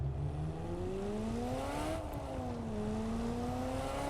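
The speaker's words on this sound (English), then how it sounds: "car sounds was one of the things I was really impressed by at the launch of the game" A car engine in the racing video game Test Drive Unlimited Solar Crown drones steadily, its pitch climbing, dipping and climbing again as the car accelerates and shifts, loud and alone.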